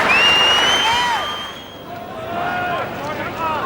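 Football stadium crowd urging a player on during a match, a broad steady roar with shrill whistles rising above it, loud and continuous.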